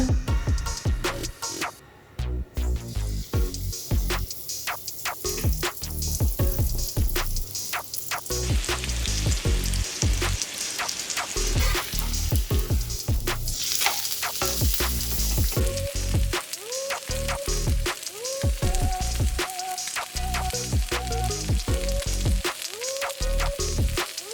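Fish fries in hot oil in a pan, a dense continuous crackling sizzle with sputtering pops and occasional clinks of a utensil, close and loud throughout.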